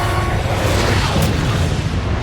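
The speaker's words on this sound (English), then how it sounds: "Superman throwing a huge-ass bomb at him will slow him down a bit" A huge bomb explodes in a movie scene, a loud, sustained roaring boom with heavy low rumble filling the whole moment, and no one talking.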